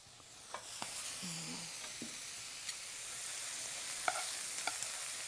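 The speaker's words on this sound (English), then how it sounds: "So now we're going to saute those potatoes." Boiled potatoes sauté in a pan with a steady hissing sizzle, broken by occasional soft taps and scrapes of a utensil, moderately close.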